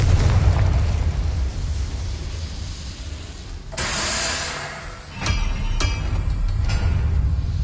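A Confringo blasting spell explodes in Hogwarts Legacy on PS5, a loud, deep rumbling boom that swells and fades, followed by a couple of sharp bursts and pops.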